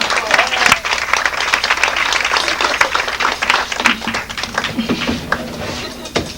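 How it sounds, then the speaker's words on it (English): A live audience claps for a volunteer called up on stage at a magic show, with loud, dense applause and sharp individual claps that thin out toward the end. "Let's have a round of applause for him."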